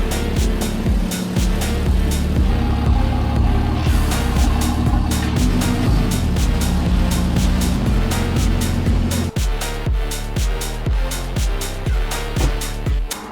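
A manual BMW G80 M3 with a big turbo runs on a dyno, its engine droning loudly as the pitch climbs. There is a rapid ticking pulse, then a sudden drop near the end into a rhythmic, pulsing throb.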